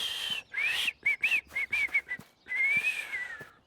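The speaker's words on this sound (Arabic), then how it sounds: "باجت تقدر تصفر من غير علبة عصير." Lip whistling without a juice box, a bright, close, clear tone: a long rising note, a run of short chirpy blips, then another sustained wavering note, loud and alone.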